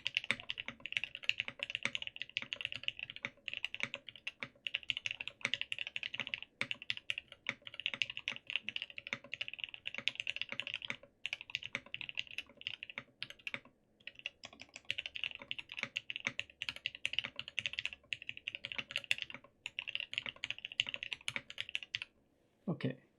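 Typing on a Geonworks Frog mechanical keyboard, a dense stream of close clacky keystrokes at a moderate uneven pace, fairly quiet, with occasional pauses.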